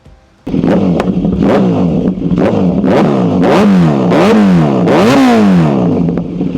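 A Kawasaki Z900 with an Arrow titanium full exhaust starts up loudly, then its engine revs in a series of sharp rising blips that fall back to a rumbling idle, very close.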